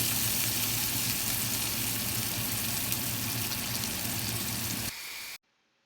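Prosciutto-wrapped sea bass sears in a hot pan with a steady, close crackling sizzle that holds for about five seconds, then thins briefly and cuts off abruptly.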